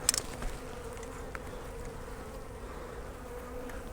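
A dense, continuous buzzing of honeybees from an open beehive, close and steady throughout, with a few faint knocks near the start.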